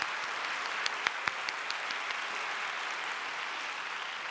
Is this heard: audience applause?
yes